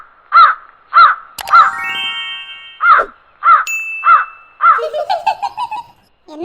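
A cartoon crow in a Tamil animated short caws in a steady series of loud, close, harsh calls, broken by bright ding and clang tones partway through.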